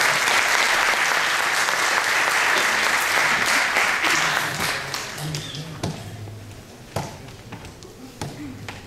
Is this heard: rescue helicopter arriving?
no